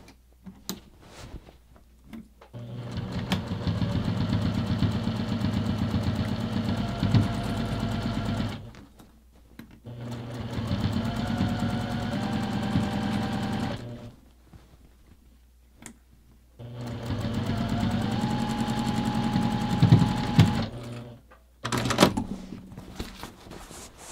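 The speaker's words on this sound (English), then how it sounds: "we're just going to go ahead and stitch this down using 1/8 of an inch seam allowance" A sewing machine stitches down a leather hobo bag at an eighth-inch seam allowance, running in three long steady whirring bursts separated by short pauses, close and loud with no talk.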